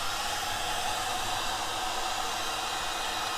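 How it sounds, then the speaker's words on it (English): A heat gun blows hot air in a steady, loud hiss while it works on a Polaris 500 snowmobile in a barn, a constant whoosh through the whole stretch with no talk. "we'll show you how that heat gun works."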